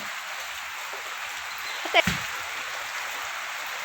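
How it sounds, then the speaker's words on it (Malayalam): Steady rain falls during coconut gathering, a soft, even hiss that runs throughout, with one brief faint knock near the middle. "മഴ എപ്പോഴും പെയ്യുന്നുണ്ട്"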